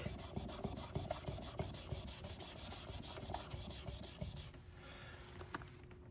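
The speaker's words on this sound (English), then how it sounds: "take a cloth rag and you're going to put marks on it with the pen and put the application there. And then just rub it in to the crack." A cloth rag rubs pen colour into a scratch on a hardwood floor, giving rapid, rhythmic close-up scrubbing strokes that stop near the end, leaving a quiet room with a faint tap.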